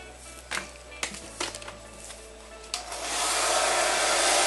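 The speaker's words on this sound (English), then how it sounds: "You literally just go through and just blow dry the hair." A handheld hair dryer blow-drying brushed hair, starting with a few short clicks and bursts, then rising into a steady, loud close whoosh of airflow that fills the last second and a half.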